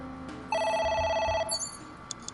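A telephone rings in the video game AI The Somnium Files, one clear electronic trill lasting about a second, followed by faint short tones.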